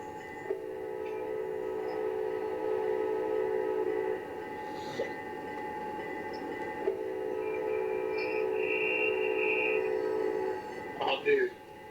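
A train horn sounds in a multiplayer train simulator game, long sustained harmonic blasts with a brief gap midway and a second higher tone joining later, over steady engine rumble.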